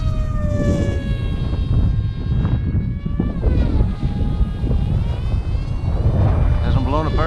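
A Crash Test Hobby Rebel S14 RC flying wing at full throttle in high winds gives a loud, continuous propeller whine that shifts in pitch as it flies, over heavy wind buffeting.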